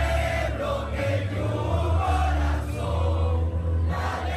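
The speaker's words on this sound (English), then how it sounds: "crowds of Venezuelans gathered to sing the national anthem and to celebrate the arrest of Maduro" Large outdoor crowd of Venezuelans gathered near Miami, Florida, singing together and cheering in celebration, a dense steady roar of many voices with no single speaker standing out.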